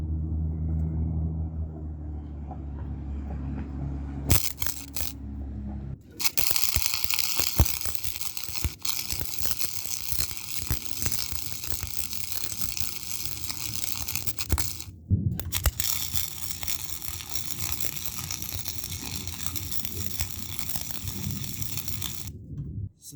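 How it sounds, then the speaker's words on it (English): Tack welding on a motor mount plate for a 1970s Tote Gote Model B build gives long, loud crackling, sizzling bursts close by, separated by short gaps, after a low rumbling start. "We're just going to throw some tacks on it now."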